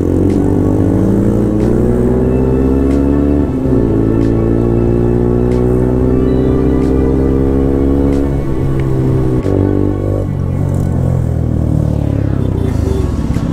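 Motorcycles, a KTM and a Bull, race along a road. Loud, close engine drone that climbs steadily in pitch, with abrupt drops at gear shifts, sustained throughout.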